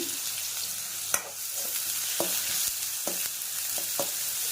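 Chopped onion frying with mustard and cumin seeds in a pan, a continuous close sizzle broken by scattered spatula scrapes and small pops, with no talking.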